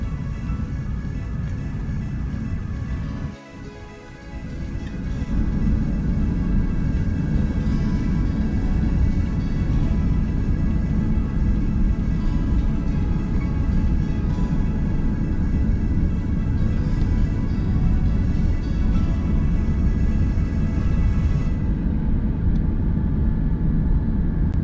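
Air France Airbus A380 taxiing toward the runway, heard from inside the cabin: a loud, steady low jet-engine rumble with airflow hiss, a brief dip near the start, then constant to the end.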